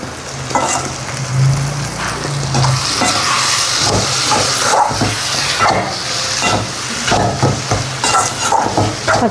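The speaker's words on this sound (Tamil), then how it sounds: "அதனால் லைட்டாக தக்காளி வதங்கினா போதும்." Tomatoes and onions sauté in a pan for a dried fish thokku, a loud, continuous sizzle and hiss broken by the repeated scrape and clatter of stirring.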